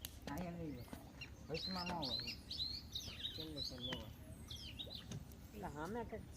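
Parrots chirp and call repeatedly in short, bright bursts, fairly quiet and nearby, while people talk intermittently underneath.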